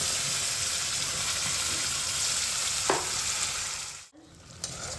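Bean, dried chili, black cumin and garlic spice paste for a Bengali tangra fish curry frying in a wok, with a steady loud sizzle throughout, a brief scrape of stirring near the middle and a short dip before the sizzle resumes.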